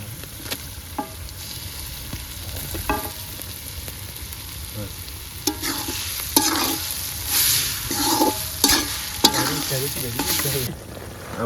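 Ginger garlic paste sizzles and fries in a pan after chopped onions, with repeated scraping and stirring strokes growing busier and louder toward the end, close up and without talk.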